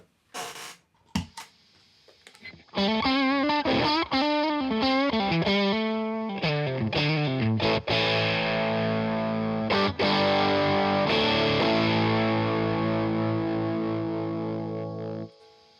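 An electric guitar runs through a UK-made Pedalborn Stormcaller fuzz pedal set to an overdriven tone, playing a few sliding melodic notes and then heavy sustained chords, loud and close, with brief pauses between phrases.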